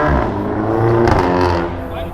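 A rare American Vector W8 twin turbo supercar at a cars and coffee gathering gives a loud, close engine roar that swells briefly midway, with voices talking over it.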